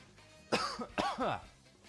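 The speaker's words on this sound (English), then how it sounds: "Sorry if my cough is obnoxious." A couple of short, hoarse coughs from someone getting over a cold, close to the microphone, with a quiet pause before and after.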